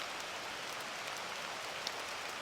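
Steady, soft rain patters through a spring forest, an even hiss of drops on leaves with no voices and no breaks.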